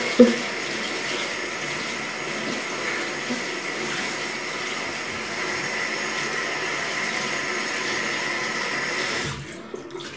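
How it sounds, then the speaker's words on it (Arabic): Warm water runs steadily from a tap in a dim home bathroom, a continuous close rushing stream for about nine seconds before it cuts off abruptly near the end, with no talking. "غادي نفزقو بالماء دافي."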